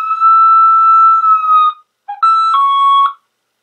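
An electronic hunting dog beeper plays a shrill tonal melody: one long steady note, a short pause, then a quick run of shorter beeps, loud and clear.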